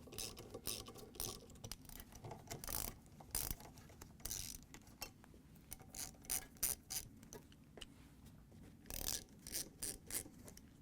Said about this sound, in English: They're going to come off with a 10mm socket.